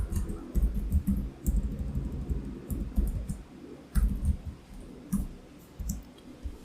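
Fingers tap out a short command on a computer keyboard, a close run of irregular light clicks and key presses with brief pauses, alone with no voices.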